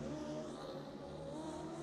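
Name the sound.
booming V-twin engine of a speedway car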